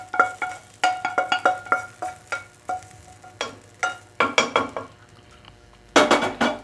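Fried potatoes and drumsticks tipped into a pot of cooked mutton curry, a run of loud close metallic clinks and scrapes of a spoon against the pot in quick bursts, with a brief sizzle near the end.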